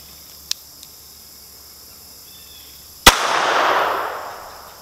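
A single sharp, loud gunshot from a .22 Shooter's Arms pocket pistol fired outdoors, with a long rolling echo fading after it and two faint clicks beforehand.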